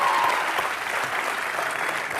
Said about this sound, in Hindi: नहीं अभी ताली मत मार